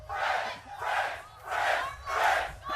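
A large wrestling arena crowd chants in unison, four rhythmic two-beat swells repeating evenly at roughly half-second intervals, loud and reverberant.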